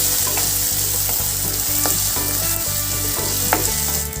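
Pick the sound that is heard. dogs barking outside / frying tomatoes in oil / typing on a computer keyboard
frying tomatoes in oil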